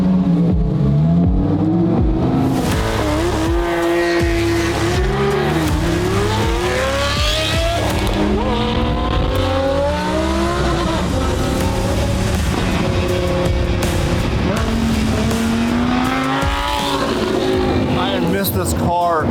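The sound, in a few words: rowdy car revving with small flywheel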